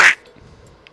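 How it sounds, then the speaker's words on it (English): A duck in the video game Terraria gives one loud, close quack in a short burst at the very start, followed by faint, quiet game background sound. "That's a duck."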